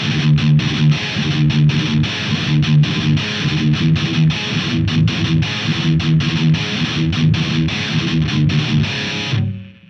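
Heavily distorted death-metal electric guitar played through a Line 6 Helix preset, chugging in fast palm-muted riffs with rhythmic stops, loud and alone, ending abruptly.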